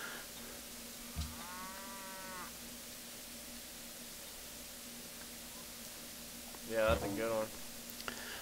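Cattle mooing in the video game Civilization 5, two separate low moos several seconds apart, fairly faint over a quiet hiss.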